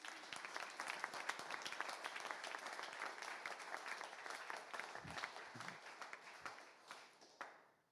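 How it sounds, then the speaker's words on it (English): Audience applause at a U.S. Senate campaign launch rally, steady dense clapping across the room that holds for several seconds, then thins and fades out at the end. "So let's give yourselves a round of applause."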